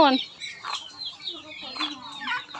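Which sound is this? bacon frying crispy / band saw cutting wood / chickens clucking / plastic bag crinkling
chickens clucking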